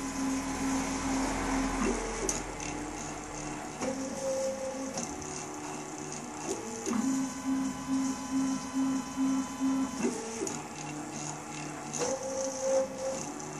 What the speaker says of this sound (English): It's quite cool watching all the axes working